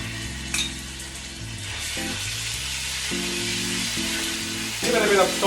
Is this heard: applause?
no